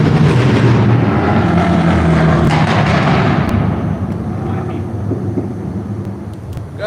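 Loud, low engine roar from motorcycles passing beside railroad tracks in Dalton, close at first and then fading away as they move off.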